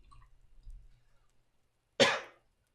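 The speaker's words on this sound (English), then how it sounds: "Pardon my cough." A single sharp cough rings out close by after a couple of seconds of quiet, faint low rumbling.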